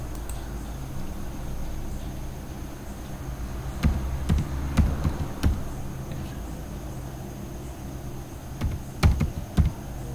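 A computer keyboard is typed on in short, sparse bursts of faint clicks over a steady background hiss, with quiet gaps between the keystroke clusters.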